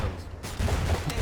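Turret gunfire in the real-time strategy game Iron Harvest, a loud rapid burst of heavy shots over a rumbling battlefield din, with no talk.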